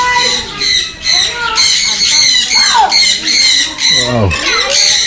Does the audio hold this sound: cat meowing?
no